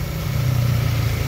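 The engine of a 2011 Chevrolet Lacetti idles smoothly, a steady low hum and rumble held at an even level throughout with no other sounds.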